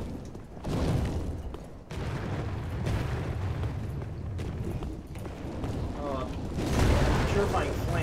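Purifying Flames ability in Dark Souls 3 erupting in repeated booming, roaring fire bursts, each swelling and cutting off, with a louder surge near the end and a voice speaking briefly.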